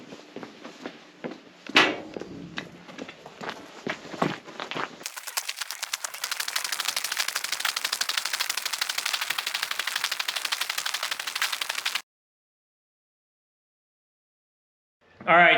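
Rifle fire at a shooting range, starting with scattered single shots and then a long, rapid, even run of close, sharp reports that stops abruptly, followed by silence and a short loud burst at the very end.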